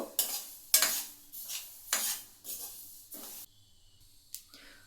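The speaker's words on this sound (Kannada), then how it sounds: "ಒಂದು ಇಪ್ಪತ್ತು ಸೆಕೆಂಡಾಗೇ ಸಿಡಿಯೋಕ್ಕೆ ಸ್ಟಾರ್ಟ್ ಆಗುತ್ತೆ ಎಳ್ಳು" Sesame seeds dry-roasting in a pan for sesame barfi, stirred in repeated loud scraping sweeps with a sizzling hiss, each stroke rising and fading, then quieter crackling at the end.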